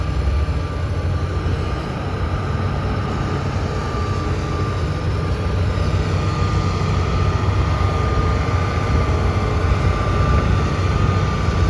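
A heavy diesel engine of a Hitachi ZX350H-5G excavator drones steadily at idle, a low continuous rumble with a faint tonal hum, close and unchanging throughout.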